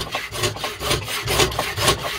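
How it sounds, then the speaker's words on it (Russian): A broken bandsaw blade, worked by hand as a hacksaw, cuts through brass in a steady back-and-forth rhythm of rasping strokes. The sawing is close and fairly loud and continues without pause. "Латунь просто прелесть пилит."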